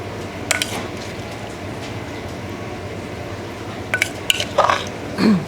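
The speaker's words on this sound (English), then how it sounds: "we just mix together like this with all the ingredients" Spicy Thai fruit salad ingredients are tossed together in a bowl, giving a few soft wet squishes and light clinks of a utensil against the bowl over a steady low kitchen background.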